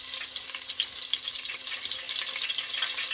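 Oysters frying in hot oil in a home kitchen, a steady dense crackle and sizzle running continuously and fairly close, with a faint low hum underneath.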